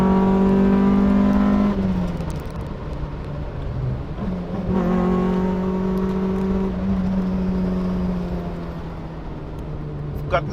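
A track-focused Honda engine screams and revs hard along a twisting mountain pass, loud and sustained throughout with rising and falling pitch as it shifts gears, and someone talks over it.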